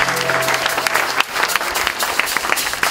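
A church congregation bursts into loud, sustained applause, a dense crowd of hands clapping continuously and close with a little vocal cheering mixed in.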